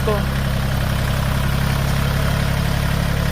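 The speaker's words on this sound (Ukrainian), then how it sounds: "Двигун ЗН 390." A small diesel engine of a Dongfeng 244 mini tractor idles nearby with a steady low rumble and rhythmic chugging pulse, running evenly throughout.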